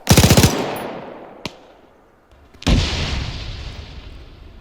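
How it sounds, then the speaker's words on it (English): A tank fires its guns in an Arma 3 battle on a city street, beginning with a rapid loud burst of machine-gun fire, then a single sharp shot, then a heavy booming blast that slowly rolls away. "Oh, our tank is kind of shooting, I see."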